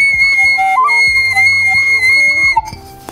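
A traditional Smolensk clay toy whistle sounds loud and close, sustained bright piping tones with short warbling pitch slides over about three seconds, then a quick tail-off.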